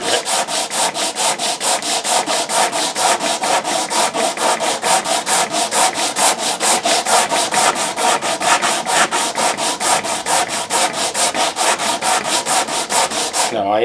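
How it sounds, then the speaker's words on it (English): Rapid, steady back-and-forth strokes of 80 grit sandpaper on the wooden neck of a 10-string classical guitar, loud and close with an even rhythm throughout and no talking. "get rid of this in a hurry with an 80 grit"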